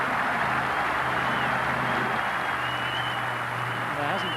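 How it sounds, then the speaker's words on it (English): Broad crowd applause at a 1994 Test cricket match, a dense continuous roar of clapping and cheering at a steady level. "There hasn't been a better round of applause all game."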